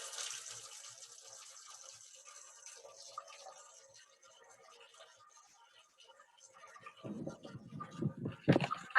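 Water running from a kitchen sink tap while waiting for it to run hot, a soft steady hiss that swells into louder splashing and gushing near the end.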